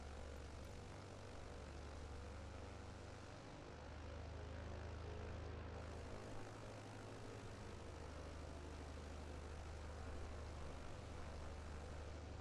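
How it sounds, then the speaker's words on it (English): Simulated propeller aircraft in Microsoft Flight Simulator rolling slowly forward on the apron after the park brake is released, with a steady, loud engine drone that swells slightly midway, no talking. "park brake comes off, aircraft slowly starts rolling forward"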